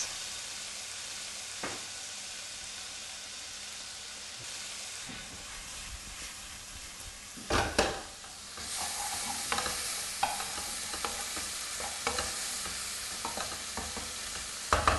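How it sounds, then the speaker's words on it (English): Bacon frying in a pan turns golden and crispy, with a steady close sizzle running throughout and louder bursts of stirring and spatter near the middle, no talking. "My bacon is getting lovely and golden and crispy"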